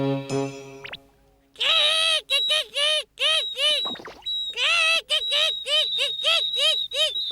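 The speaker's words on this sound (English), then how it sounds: "Keep chirping and fluttering your wings." Cartoon birds in an animated scene chirp in quick repeated bursts, high and loud, with a voice at the start and a steady whistle-like tone running underneath; no clear wing fluttering stands out.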